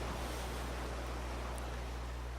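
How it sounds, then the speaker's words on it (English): Steady, soft wash of water lapping against the hull of an empty ship, a continuous low rumble and hiss with no distinct wave breaks, alone and unbroken throughout. "As you fall asleep, you hear just the sounds of the water"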